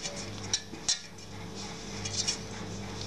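A metal spoon scrapes and clinks against a dish while spreading a layer of dessert, a few sharp taps and soft scraping sounds, close and alone.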